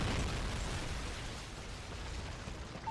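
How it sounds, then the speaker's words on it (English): A Predator missile explodes in Call of Duty: Modern Warfare 3 as a broad, rumbling blast that slowly fades over a few seconds, with no talk. "Friendly Predator missile inbound."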